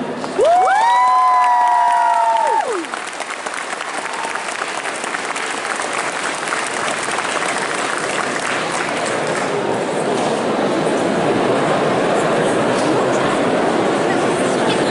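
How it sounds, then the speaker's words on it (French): Audience applause at a cosplay contest at the Necronomicon convention, a steady crowd clapping that runs the full length, opened by a loud voice calling or whooping over the first few seconds. "Et on applaudit."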